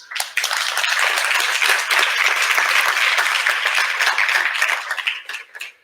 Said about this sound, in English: I think you all deserve a round of applause as well.